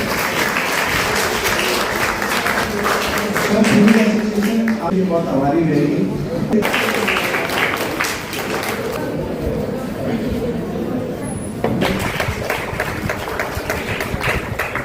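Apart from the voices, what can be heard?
applause from the audience at a chess championship closing ceremony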